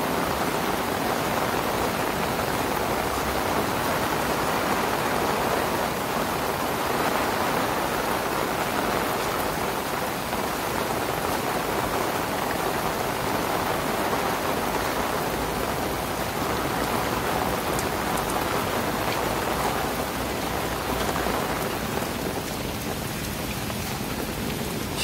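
Heavy rain pours steadily across an outdoor sky park, a dense, continuous hiss of drops on surfaces that stays loud and even throughout with no voices.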